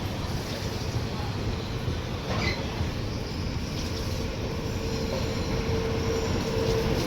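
The Coimbatore–Bangalore Uday Superfast Express crosses past as a steady, loud rumble and rushing wind roar close by, continuous throughout with no clear horn.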